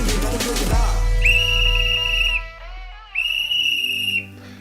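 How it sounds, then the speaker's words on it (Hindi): A sharp whistle blows twice in the morning lanes of Varanasi to call residents out for garbage collection. Each long, steady blast lasts over a second, with a short pause between them, over a noisy street background. "यह आवाज है एक सीटी की। इस सीटी की आवाज के साथ ही घरों के दरवाजे खुलने शुरू हो जाते हैं।"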